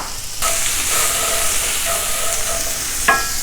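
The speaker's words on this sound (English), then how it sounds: "We're going to add some onions and saute them." Onions sautéing in hot oil in a pan give a steady close sizzle, with a few brief clatters and one sharper knock near the end.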